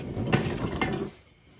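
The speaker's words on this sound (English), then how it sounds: "I have to spin the wheel." A truck's rear wheel spun by hand turns its gears with a close, grinding mechanical whir and a couple of sharp clicks, then stops abruptly.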